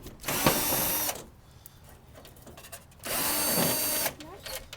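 Large Phillips screws driven out of a car's licence plate pocket with a power drill, two sustained whirring bursts of about a second each separated by quieter handling sounds and faint talk.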